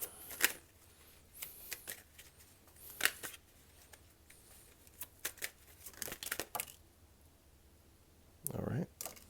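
Tarot cards are shuffled and drawn from the deck: soft, scattered flicks and papery slaps at an irregular pace, with a brisker riffle of cards close by near the end.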